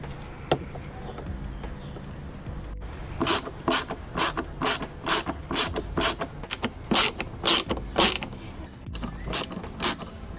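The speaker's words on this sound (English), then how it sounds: "I'll be using the magnetic bit attachment to be able to pull out these screws" Repeated bursts of a power driver with a magnetic bit backing out deeply countersunk door panel screws on a 2012 Range Rover Sport HSE Lux, close and loud, about a dozen whirring pulses in quick succession.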